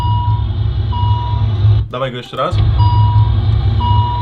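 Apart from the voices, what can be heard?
car warning chime for headlights left on with door open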